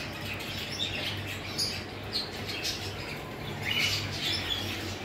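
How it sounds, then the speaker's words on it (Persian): Birds calling at a zoo's bird enclosure, a dense wash of chirps and tweets layered over steady ambient noise, moderately distant with no single call standing out. "اینجا همه پرنده بودن"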